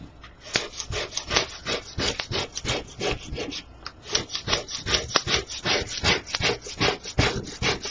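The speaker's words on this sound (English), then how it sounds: "burnish this with your squeegee tool" A squeegee tool rubs hard over an etched glass stencil, making steady rhythmic scraping strokes, close and continuous for the whole stretch, with no voices.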